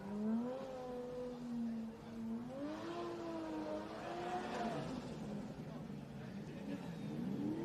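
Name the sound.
race car doing burnouts at Pheasant Wood Circuit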